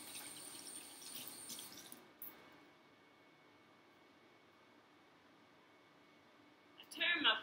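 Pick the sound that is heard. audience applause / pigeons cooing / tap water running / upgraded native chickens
tap water running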